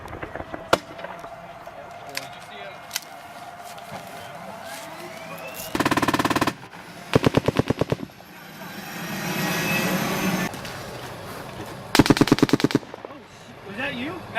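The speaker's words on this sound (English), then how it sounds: "Somebody shooting that way" Bursts of machine-gun fire crackle during a firefight in Afghanistan, with several rapid automatic volleys between single shots and a jet aircraft roaring overhead. Voices talk faintly in between.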